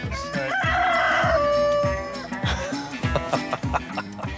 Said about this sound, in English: The chickens are fun.